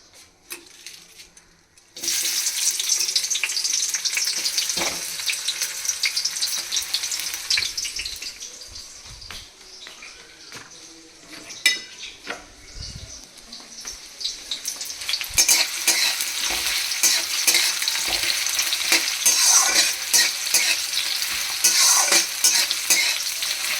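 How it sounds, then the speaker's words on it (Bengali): Onions sizzle and crackle in hot mustard oil in a pan, a steady frying hiss that grows denser partway through, with stirring scrapes and a brief burst of tap water. "পেঁয়াজটা ভাজার সাথে সাথে আমি বাবা কি এত ঝাঁঝ না"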